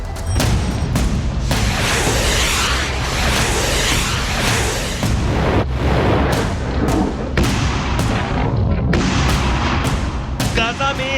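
Israeli air strike explosions in Lebanon: a rapid series of loud, sharp blasts and booms, some with rumbling tails, spaced irregularly throughout.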